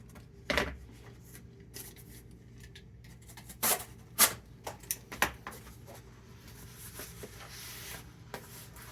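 Card being handled while packing a model train locomotive and tender for shipping: scattered crisp rustles, scrapes and taps, a few sharper clicks standing out, close and fairly quiet with no talk.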